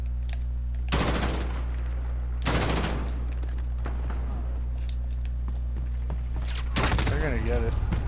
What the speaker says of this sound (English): this gun takes forever to shoot, man